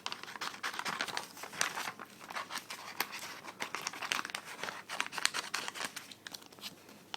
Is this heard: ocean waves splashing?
no